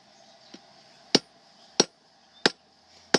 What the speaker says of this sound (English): I'm turning the metal every few hits and moving it forward and backwards so that he doesn't have to move the hammer to hit